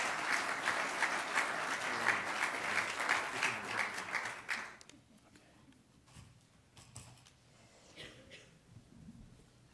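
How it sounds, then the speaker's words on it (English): An audience at a fireside chat with CEOs applauds as the guests are introduced. Dense, lively clapping lasts about five seconds, then drops to a few scattered claps over quiet room noise. "So we have a round of applause as we introduce our guests."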